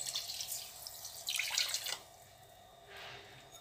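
Water pouring into a pot for fig jam, a couple of short splashing pours close by, then a softer trickle near the end, with no talking.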